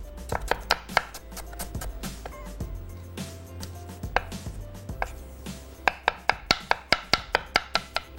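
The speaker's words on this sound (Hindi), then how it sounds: "दरमियानी प्याज को आपने स्लाइस करके" A medium onion being sliced with a knife on a cutting board, sharp rhythmic chopping taps, scattered at first then a quick even run of strokes near the end, close and loud.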